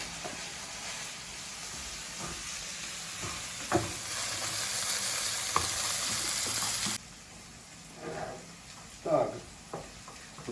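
Onion dressing (zazharka) frying in a pan for varenyky, a fairly quiet continuous sizzle with a few stirring scrapes and knocks, fading lower partway through as brief voices and clatter come in.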